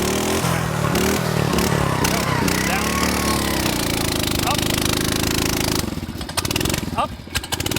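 Gas-powered two-man post hole auger drilling a fence post hole, its small engine droning loud and steady with a rough buzzing pulse, then easing off near the end while people talk over it.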